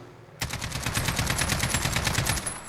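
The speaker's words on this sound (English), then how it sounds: "I'm going to just fire it and let it rip and not control it" Sustained automatic burst from an RPK machine gun in Call of Duty Modern Warfare, fired crouched without recoil control: a sudden start followed by rapid, evenly spaced loud shots running for over two seconds, alone without talk.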